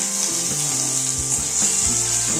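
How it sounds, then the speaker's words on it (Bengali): Tomato frying in hot oil with onions, a loud, steady sizzle with brief stirring scrapes under the hiss. "টমেটোটা একটু ভেজে নেব হালকা করে।"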